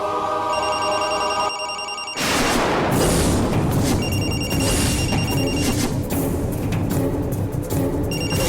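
Malathi's telephone rings with a loud, repeated electronic bell tone that cuts off briefly, then continues ringing in steady pulses alongside a burst of dramatic noise.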